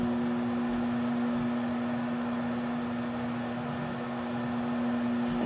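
Microwave oven running steadily while heating a tamale pie, a constant low electrical hum with fan whir and no breaks.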